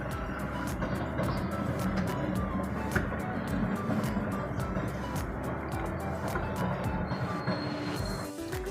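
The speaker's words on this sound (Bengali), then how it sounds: "আর ট্রেন যাচ্ছে উপর দিয়ে" A train rumbles past on an overhead track nearby, its rhythmic clatter of wheels steady and loud, with repeated sharp clicks over the joints.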